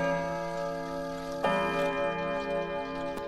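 A chiming clock that strikes every half hour and hour on six chime routes rings with sustained, resonant bell tones that layer and decay, with a fresh strike midway, close and alone.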